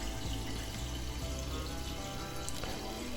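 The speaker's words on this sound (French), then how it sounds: "on peut réouvrir l'eau" Water runs into a toilet cistern once the supply is reopened, a steady faint trickle and rush that fills the tank throughout with no voices.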